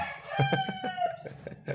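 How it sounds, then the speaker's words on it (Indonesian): A rooster crows loudly and close by in a drawn-out call with hen-like clucking pulses, heard on its own in a phone repair workshop. "mari kita dengarkan ayam"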